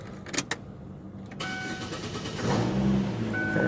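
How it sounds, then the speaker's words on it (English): Chevrolet Aveo engine cranks with a few clicks and a short whir, then catches and settles into a steady idle that grows slightly louder, recorded close up with no talk. "I'm going to start the car now."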